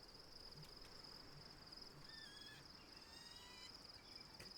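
Crickets chirp steadily through a video game's night scene under a starry sky, a continuous faint insect trill with a few brighter chirps layered on top and no talking.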